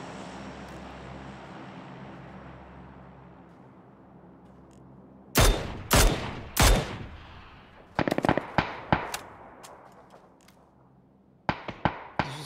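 Gunfire in PUBG, several loud sharp shots in bursts and single cracks over a steady engine-like drone, close and without talking.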